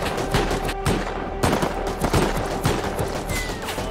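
Dense, rapid gunfire from the video game Rust, with overlapping bursts and shots crackling continuously throughout.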